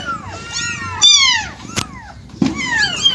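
A pregnant pet cat meows repeatedly at close range, drawn-out rising and falling cries in three clear bursts with a sharp click between them and little else around.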